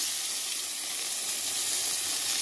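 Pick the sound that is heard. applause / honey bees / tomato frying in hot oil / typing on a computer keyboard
tomato frying in hot oil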